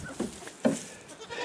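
A goat bleats in short calls, one louder cry near the middle, from a dominant goat guarding the house while another goat is kept out on a farm with electric fencing; moderately close with no talking.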